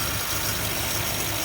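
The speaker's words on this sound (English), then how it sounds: "Usually when the engine is cold, you're going to get a little rough idling." A cold vintage Mopar engine idling roughly, a steady close low rumble with a slightly uneven pulse and no talking over it.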